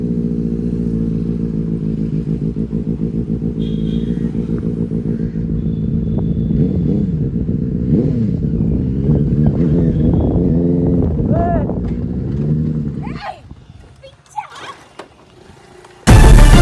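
A superbike engine idles and revs with a steady harmonic drone, pitch rising and falling through several throttle blips, then the engine cuts out near the end and a sudden loud knock follows.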